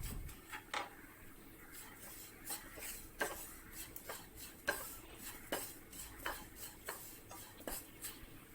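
Grated coconut and spice powders roasting in a pan over low heat for an idiyan chakka (young jackfruit) masala curry, stirred with a spoon that scrapes and clinks against the metal in an irregular rhythm, close and fairly quiet, with no talking.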